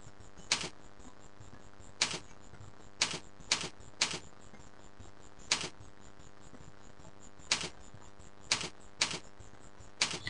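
Typing on a computer keyboard, isolated sharp key clicks in an irregular rhythm about one per second, close and clear over a low steady hum.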